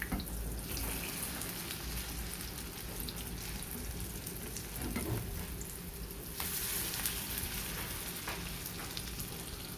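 Sardine patties frying in a pan, a steady close sizzle and crackle of hot oil running throughout with no talk.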